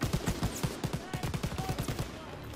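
A machine gun in Call of Duty WW2 fires at a tank, producing rapid, evenly spaced shots in a steady, loud burst that continues throughout.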